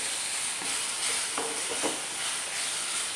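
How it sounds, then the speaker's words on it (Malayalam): Banana flower thoran is stirred in a hot pan, a soft steady sizzle with faint scraping strokes from the spoon, quiet and close, without speech. "എന്നിട്ടൊന്ന് ഇളക്കി"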